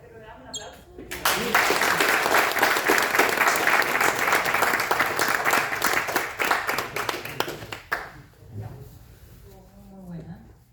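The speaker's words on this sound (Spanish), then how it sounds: "¿Ya te damos un aplauso?" Applause from the audience at a talk on Jewish spies in World War II, a burst of clapping that rises sharply, holds for several seconds, then cuts off as a voice resumes speaking.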